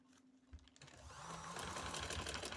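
A sewing machine stitches a trouser, starting faintly and building into a steady, close whirring run of rapid needle strokes that grows louder and continues alone.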